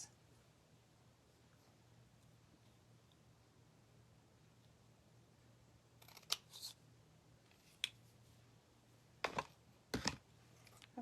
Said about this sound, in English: Now I'm just going to grab my big scissors and chop this.